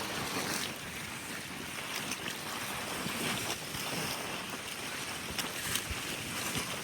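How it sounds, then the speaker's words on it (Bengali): River waves breaking against the bank near the Venugopal Swamy Temple close to Brindavana Gardens, Mysuru: a steady wash of churning water with gusty wind buffeting the microphone, continuous and fairly close, with no talk. "আছড়ে পড়ছে জল"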